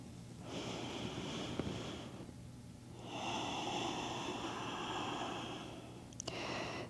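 Slow, deep breaths during a yin yoga pose with the forehead resting on the mat, long airy inhales and exhales heard close and quiet, two or three full breaths with pauses between.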